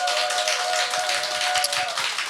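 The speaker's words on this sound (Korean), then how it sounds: "우리 박수로 시작해 볼까요?" An audience in a Korean talk-show studio applauds to open the program: a steady wash of clapping at moderate loudness, with a faint sustained tone running beneath it.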